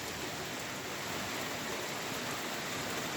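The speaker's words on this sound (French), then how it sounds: "C'est en train de se transformer en grêle." Dense, steady rain pours down during a thunderstorm in Montélier, Drôme, as it turns to hail, making a continuous hissing roar with no distinct individual impacts.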